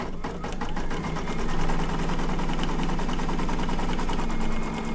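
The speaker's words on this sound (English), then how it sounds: "now we're going to do the outline for the top, which is also going to be in the house fabric" An embroidery sewing machine stitching a fabric outline in the hoop, a steady fast mechanical chatter with a regular stitching rhythm and a low motor hum throughout.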